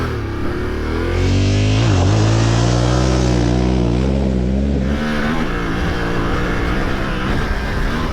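A Yamaha Tenere 700 World Raid motorcycle revs hard off-road with ABS in off-road mode and no traction control, a loud, close engine climbing in pitch through the gears, then a rough, steady drone.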